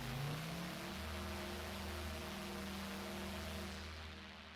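A Dune 3 synthesizer patch called Cyber Cycle plays a low droning, engine-like tone under a broad noisy hiss, steady and sustained before gradually thinning out near the end, with no voice.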